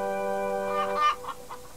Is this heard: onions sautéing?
no